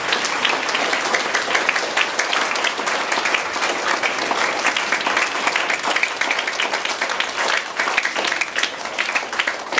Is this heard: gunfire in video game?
no